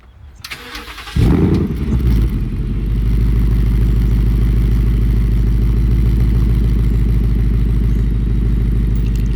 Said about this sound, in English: this is not a cold start, but this is just a start